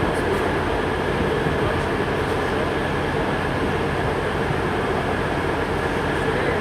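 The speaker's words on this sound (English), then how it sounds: "coming in now on platform 3B is a 1420 East Midlands train service to Matlock from Newark Castle" An East Midlands diesel train pulls in at a platform in Nottingham station with a continuous loud rumbling engine drone and faint wheel clatter, and no voices over it.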